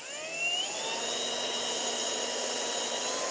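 A drill bores steadily into a piston during an LS engine build, a continuous high whine with rising pitch at the start and then holding steady and loud, no voices.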